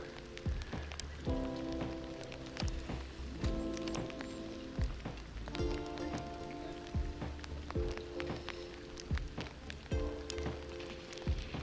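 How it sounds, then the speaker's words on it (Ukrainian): Rain falling near a river bridge during morning fishing: a steady, soft patter of drops on surfaces throughout, with intermittent tonal hums and sharp taps mixed in. "Хоч і дощ, ні, хоч і дощ"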